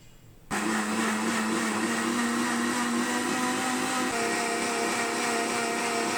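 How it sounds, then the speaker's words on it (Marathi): A mixer grinder blends powdered sugar with milk, starting abruptly after a brief quiet moment and then running as a loud, steady whirring drone close by until the end. "आता आपण हे मिक्सरमधून फिरवून घेऊ"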